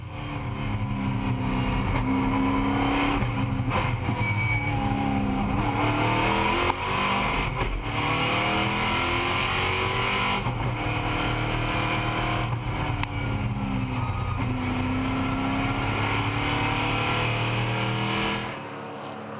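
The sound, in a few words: race car going off the track, Chevy Monte Carlo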